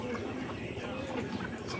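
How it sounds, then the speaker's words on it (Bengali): Pigeons coo softly from a loft of thirty to forty birds at a village home. The low, faint cooing is mixed into a hazy background. "30-40টা হবে কবুতর আছে, পায়রা।"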